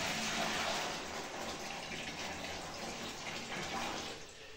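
Water gushes steadily into a bucket to mix mortar, a continuous splashing pour that stays even and fairly close before easing off slightly at the end.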